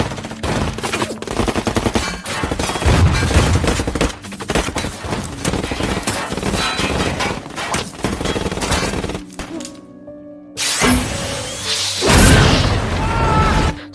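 Loud gunfire bursts and heavy booms from a bomb explosion in an action film battle scene, continuous dense shots with a brief lull before a renewed blast and more firing.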